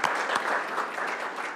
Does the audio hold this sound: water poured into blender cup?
no